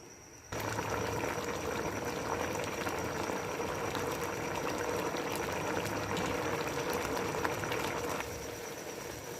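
Water with rice comes to a boil in a pot for matar pulao, a steady bubbling rush starting abruptly and holding evenly, then dropping slightly near the end.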